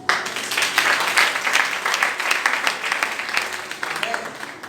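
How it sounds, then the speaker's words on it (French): A church congregation claps and cheers in praise: steady, dense applause with rhythmic clapping that carries on throughout, while voices sound over it. "Acclame Jésus"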